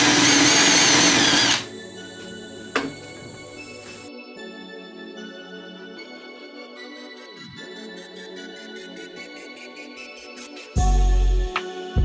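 A power drill bites into a case-hardened steel rear axle for a mini rock crawler with a loud burst of grinding. A thin whining tone with tinny ringing follows, and the loud drilling returns near the end.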